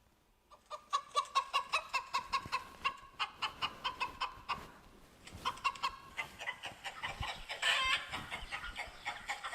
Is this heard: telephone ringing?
no